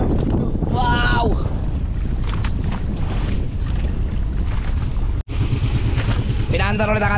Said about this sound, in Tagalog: Pinaandar ulit ang ating makina dahil napapalayo na tayo